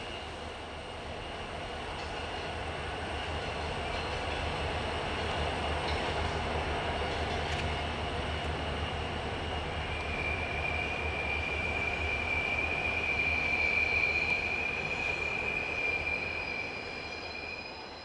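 B&O freight train with a helper engine climbing the steep Newburgh grade, a long steady rumble of rolling cars with squealing wheels and a sharp high flange screech rising midway, heard from close by.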